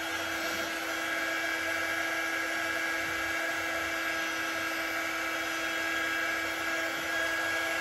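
A fan dryer running on its high setting while drying chalk paste on a tobacco basket: a loud, constant whine and rushing airflow with steady tonal hum, unbroken and close throughout, with no talk.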